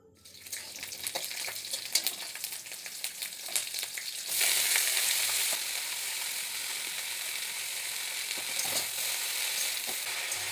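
Freshly picked garden greens fry in a kadai with garlic, nigella seeds and green chilli, a steady sizzle with scraping stir strokes, turning into a brighter, louder hiss midway as the greens hit the oil.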